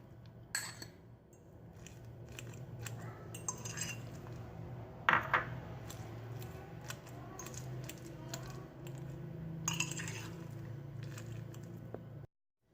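Boiled eggs are mashed with butter in a bowl, with scattered clinks and taps of a utensil against the dish at close range, some sharper knocks standing out amid a soft background.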